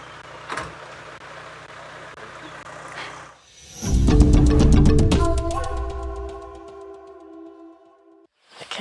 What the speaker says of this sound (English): So you might hear a little bit of strange movements, strange sounds, but it's just us protecting all of our equipment.